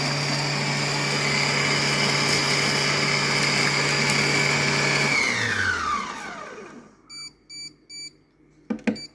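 A kitchen robot runs its chopping program, a loud steady motor whir that winds down and stops, followed by a few short electronic beeps signalling the end.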